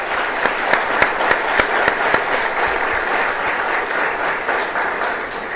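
Audience applause at a political gathering, a dense, loud, steady wash of clapping from a large crowd with a few sharper claps standing out near the start, with no talking over it.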